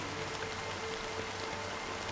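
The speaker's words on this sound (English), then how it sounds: "it's still raining" Steady rain falls in Honkai: Star Rail, an even, continuous hiss of drops with no pauses.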